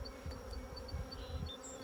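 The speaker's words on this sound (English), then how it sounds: "Oh, the bees are working on some comb." Honey bees buzz steadily from an opened hive as brood comb frames are worked, a soft, continuous hum with faint higher buzzes of individual bees passing close.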